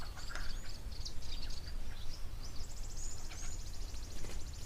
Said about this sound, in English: From what I can see, there's swifts.